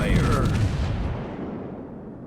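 Main guns of the Pobeda, a Russian tier-10 battleship in World of Warships, fire in one loud, heavy boom that rumbles and fades out over a couple of seconds.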